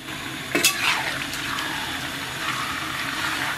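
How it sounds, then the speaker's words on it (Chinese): Pork belly stir-fried in hot oil in a wok gives a steady, close sizzle, with a couple of sharp metallic scrapes of a spatula against the pan near the start and no talking. "咱们把五花简单煸炒一下。"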